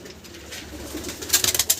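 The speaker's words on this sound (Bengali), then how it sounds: "তো এই হচ্ছে পায়রা" Pigeons coo softly nearby with some fluttering and rustling, the sounds growing busier toward the end.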